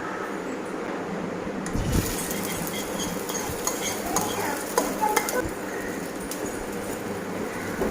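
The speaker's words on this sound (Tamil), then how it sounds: "இதே மாதிரி இன்னொரு ஆம்லெட்டும் நம்ம போட்டு எடுத்துடலாம்." An omelette frying in a pan gives a continuous close sizzle, broken by occasional metallic scrapes and clinks of a spatula, no voices.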